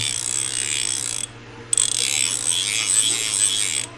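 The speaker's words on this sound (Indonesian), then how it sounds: "Oh ya, kita pasang dulu karena kita mau dengar suara drag clickernya." A Seahawk IMS1 baitcasting reel's metal drag clicker ratchets loudly and continuously at close range, breaks off for a brief pause, then resumes its steady buzzing run with no talk.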